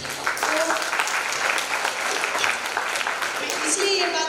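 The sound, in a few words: audience applause at a poetry festival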